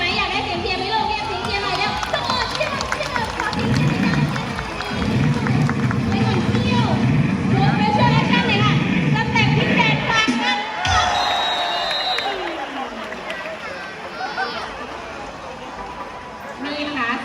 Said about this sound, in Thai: เรียกเสียงเชียร์หน่อย